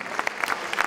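Guests at a rugby league tribute event clap together in a brief, fairly soft burst, a dense patter of hands heard from the room.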